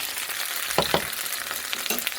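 Cabbage slices fry in a pan with a constant close sizzle, broken by two quick scraping clatters as pieces are flipped, then another brief scrape near the end.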